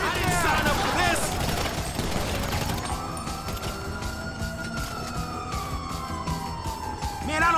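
Ambulance siren in GTA V rises and sweeps steadily, loud and close, over engine noise and gunfire-like bursts, with shouted voices around it.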